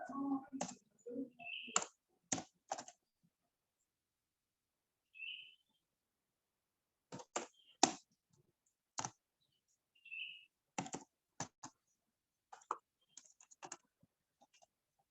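Numbers are keyed in on a computer keyboard in short bursts of crisp, close taps separated by silent pauses, faint and quiet overall, with a few small beeps between the bursts.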